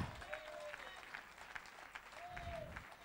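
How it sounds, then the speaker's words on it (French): Applause rises from a congregation at a French-language worship service, a moderate, fairly distant patter of many hands with faint voices calling out briefly over it. "Applaudissez-moi un peu, Jéhovah"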